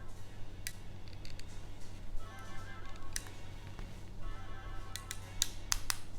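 Ratchet joints on an MP-44 Optimus Prime knockoff figure clicking, faint sharp clicks scattered irregularly, several in quick bunches near the end, over quiet background hiss.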